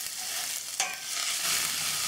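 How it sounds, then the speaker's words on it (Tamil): Onions sautéing in a pan for Kerala-style kadala curry give a steady, hissing sizzle that stays close and moderately loud, with one brief stirring scrape partway through. "இப்போ வெங்காயம் வந்து கொஞ்சம் நல்லா வதங்கட்டும்."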